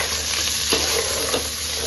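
Mutton pieces sizzle and fry in a pot while being browned for pulao, a steady close hiss with a couple of soft stirring scrapes partway through.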